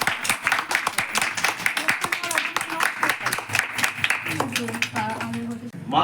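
Loud crowd applause at a Saraswati Puja prize giving, dense steady clapping that fills the room, with voices talking over it and the clapping thinning toward the end.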